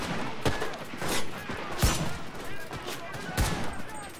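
Gunfire in the World War II shooter Enlisted, several sharp shots spaced across a few seconds over a busy, noisy battlefield background.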